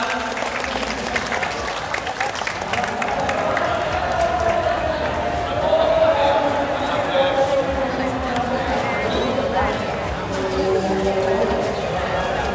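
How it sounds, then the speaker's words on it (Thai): Crowd applause at an outdoor b-boy breakdance awards ceremony during the 2012 Lai Ruea Fai illuminated boat festival in Nakhon Phanom, a steady dense wash of clapping and murmur lasting throughout, mid-distance. "เสียงปรบมือดังๆให้กับคอมเมดีชิพครับ"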